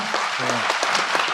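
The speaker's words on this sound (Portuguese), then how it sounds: "Uma salva de palmas para ele, por favor" A short burst of audience applause at a construction industry panel event, dense clapping from many hands with a voice speaking briefly over it.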